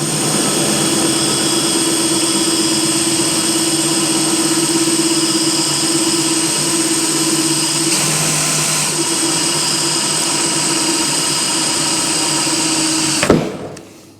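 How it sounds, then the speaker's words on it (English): A power drill runs in reverse as it bores through the plastic of a 5-gallon bucket, giving a loud, steady, whining drone for about thirteen seconds before it stops abruptly at the end. "Whenever you're drilling into plastic, it's always recommended to use the drill in reverse."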